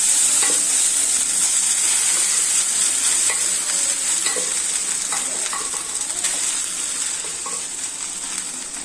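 Moong dal khichdi with jeera is stirred in a frying pan, with a steady sizzle under repeated scraping and clacking strokes of the spoon, close and fairly loud throughout.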